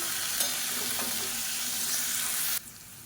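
Onion, green chilli and tomato sautéing in oil with ginger-garlic paste: a steady, loud close sizzle with faint stirring scrapes, dropping abruptly to a quieter hiss near the end.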